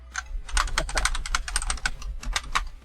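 Rapid typing on a computer keyboard, close and crisp, with irregular bursts of clicking keys and a few louder strikes, heard alone without talk.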